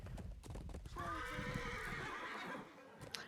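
Horse hooves clatter at a gallop and the horse neighs loudly in the medieval combat video game Chivalry 2, a sustained whinny over rapid clip-clop rhythm, fairly close and without talk.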